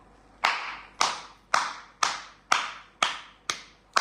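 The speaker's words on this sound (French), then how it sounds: "que nous applaudissions les camarades qui ont manifesté aujourd'hui à Abidjan et en Côte d'Ivoire" A small group claps in slow unison for comrades who marched in Abidjan, eight sharp, evenly spaced claps about half a second apart, close and alone.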